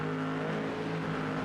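McLaren and Ferrari race cars in a racing game at Zolder, engines droning steadily at high revs side by side, a continuous loud roar with no pauses.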